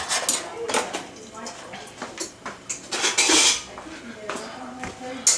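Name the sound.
slotted spoon being fetched, utensils clattering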